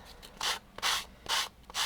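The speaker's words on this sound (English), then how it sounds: "I just use the sanding block to kind of" Close, rhythmic scratchy strokes of a sanding block rubbing back and forth over paper card edges, four distinct passes with short pauses between.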